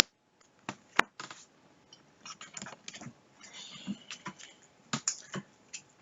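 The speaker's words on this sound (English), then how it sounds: "And we need to shuffle all these decks." Decks of game cards for the Pathfinder Adventure Card Game are shuffled by hand in a string of quick, crisp riffles and taps, close and fairly quiet, with no talk.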